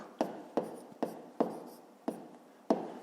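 A pen writes out a fifth-grade maths division solution on paper, giving six evenly spaced scratchy strokes, each a sharp onset that fades, close up with no speech.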